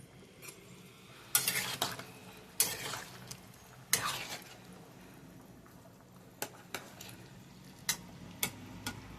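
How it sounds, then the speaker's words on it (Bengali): Pieces of fried katla fish go into a pan of curry with potatoes, heard as a quiet low simmer with several sharp clinks and taps of a utensil against the pan, close and faint, with no talking. "মাছগুলো ভেজে রেখেছিলাম ওগুলো দিয়ে দেবো।"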